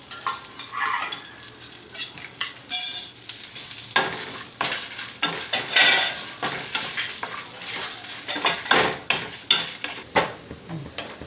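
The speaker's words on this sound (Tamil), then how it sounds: "இந்த மாதிரி நிறம் மாறாமல் வறுத்துக்கணும்" Dry red chillies and chana dal frying in oil in a pan, a continuous close sizzle broken by repeated spoon scrapes and stirring clatters, with no talk.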